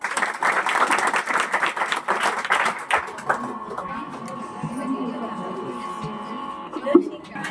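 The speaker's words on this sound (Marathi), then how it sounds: "सर्वांसाठी आपण टाळ्या वाजवा" Students and guests at a Class 10 farewell and blessing ceremony at Janata Vidyalaya, Konambe, Sinnar, break into brisk applause for about three seconds, then the clapping fades into quieter room sounds with a few scattered taps.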